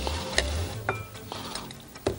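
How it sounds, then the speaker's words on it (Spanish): A batter with shredded white cabbage for okonomiyaki is stirred in a bowl with a few sharp knocks and scrapes of the utensil, quiet and close. "Lo mezclamos todo junto."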